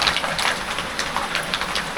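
Heavy rain pours steadily outside a window, a dense, continuous hiss with no pauses, and no voices over it.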